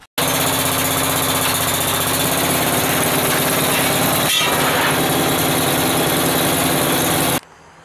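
A small walk-behind tractor with a Wisconsin engine runs continuously at a steady, loud, buzzing idle up close in a shop, cutting off abruptly near the end.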